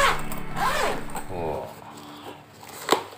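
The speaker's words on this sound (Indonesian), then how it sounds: "Tas Sunrise ini mempunyai resleting 3R." The zipper of a black Yonex SUNR 9631MS BT6 Thermoguard Pro Tournament badminton bag is pulled open in a few quick rasping strokes, close and clear, with a person talking.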